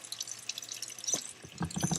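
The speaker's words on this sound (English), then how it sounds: "We have the sink. The water runs, turns on." Water from a sink tap in a rustic off-grid setup runs and drips, with a steady trickle and close splashing that grows heavier toward the end, heard alone without talk.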